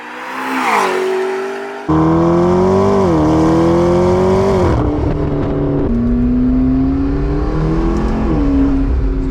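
A McLaren 650S Spider's 641-horsepower engine drones steadily while driving, its pitch rising and falling through gear changes, loud and close, with a burst of revving at the start.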